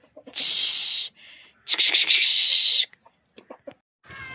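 Close, loud chicken calls come in two harsh bursts with a few quieter clucks and chirps between them, outdoors, as the chickens come to eat watermelon.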